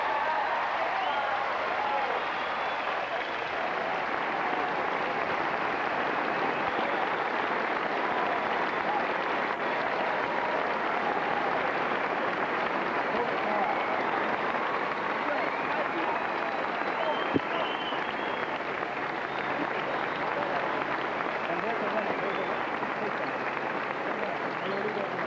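Applause after championship point at the 1989 Virginia Slims of Los Angeles tennis match, Navratilova vs Sabatini: a dense, sustained roar of clapping from a large arena crowd that holds steady throughout.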